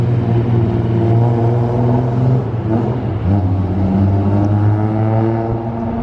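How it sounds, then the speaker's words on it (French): A Ferrari drives past on the streets of Monaco, its loud engine drone holding steady and close throughout, pitch sliding midway as it passes and continues revving, with no talk over it. "Encore une Ferrari, toujours une Ferrari."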